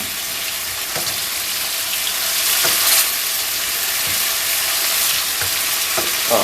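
Breaded chicken fingers, a little burnt, frying in a pan of hot oil: a steady bright sizzle with scattered crackles and a few clinks of a utensil, close and fairly loud, with no voices.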